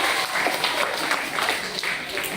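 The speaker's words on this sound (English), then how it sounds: "Let's give our law enforcement and Mr. Gaetano a big applause." Applause from the audience at an elementary school ceremony honoring the school as a 2018 National ESEA Distinguished School, a steady wash of clapping that holds at an even level throughout with a faint voice mixed in.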